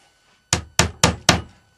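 A hammer drives a small pin into freshly glued wood in a workshop, four sharp, close taps in quick steady rhythm after a brief silence.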